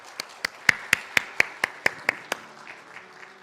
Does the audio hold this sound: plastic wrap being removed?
no